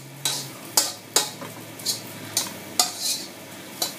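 Pork fried rice tossed in a pan just taken off the heat: about eight sharp scraping, clattering strokes in an uneven rhythm, close and clear over a soft background hiss, with no talking.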